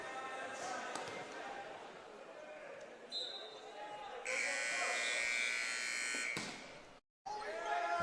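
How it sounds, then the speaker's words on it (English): A buzzer sounds at a men's college volleyball match between Stanford and UCSB just before a serve, a steady electronic tone over crowd noise with commentators talking. "Snooey waited long enough for the buzzer"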